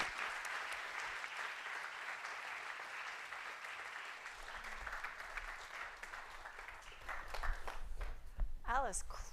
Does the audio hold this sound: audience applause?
yes